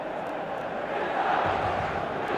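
The stadium crowd in a football video game gives off a faint, steady roar with a swell of cheering midway, sitting low in the mix.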